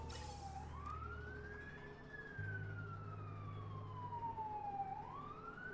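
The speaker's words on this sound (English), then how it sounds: "I don't know if you can hear an ambulance outside," Ambulance siren wailing outside a building, a steady rising and falling tone sweeping slowly up and down over a low engine hum, moderately loud and continuous with no talk.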